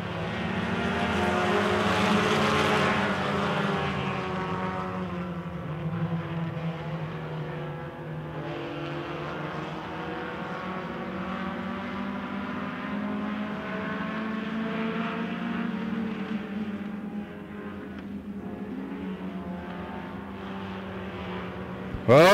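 Four-cylinder race cars roar together at the start of a short-track race, a dense engine drone peaking early then holding steady as the pack accelerates, with no talk over it.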